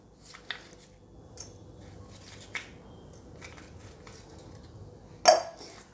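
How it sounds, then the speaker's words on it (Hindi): Crushed ice spooned into a glass for a virgin mojito gives a few scattered clinks and scrapes at a quiet level, ending in one louder glassy clatter. "इसके बाद इसमें हम क्रश आइस डालेंगे।"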